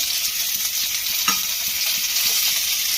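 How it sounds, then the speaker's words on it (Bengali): Chopped tomato sizzles loudly in hot oil, a dense continuous hiss close up with one brief clink of a utensil partway through and no voices. "তেলটা বেশ গরম হয়ে গেছে, এখানে দিয়ে দেবো আমি একটা কেটে রাখা বেশ বড় সাইজের টমেটো"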